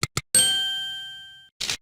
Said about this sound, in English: The sound of their bells can be heard all around the city.